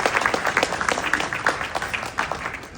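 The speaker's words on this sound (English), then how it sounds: "So let's get a clap up on that." Wedding guests clap during a best man's speech, a brief burst of scattered, mid-level applause from a roomful of people.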